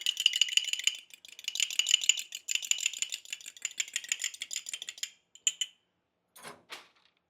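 Egg wash whisked in a bowl for jalapeño popper puff pastry twists, a quick steady rattling of a utensil against the bowl for about five seconds, then a few brief taps and clinks before a pause and a final short scrape.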